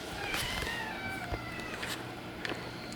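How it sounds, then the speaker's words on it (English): A cat meows several times indoors, short rising calls scattered across a few seconds with light household noise and small taps around them. "Really, where did my cat go?"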